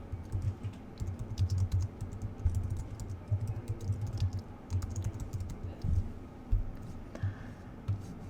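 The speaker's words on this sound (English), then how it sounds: "So I'm going to type in Sinclair Broadcast Group." Rapid typing on a computer keyboard while entering a search, a close, steady patter of key clicks in uneven bursts with brief pauses between words.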